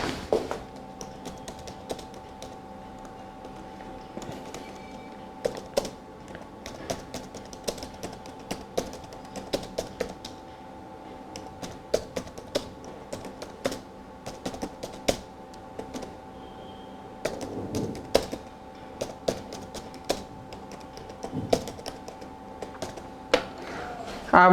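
Rapid, irregular keystrokes on a computer keyboard patter continuously at close range while a receipt voucher narration is entered into accounting software, with brief pauses between bursts and no speech.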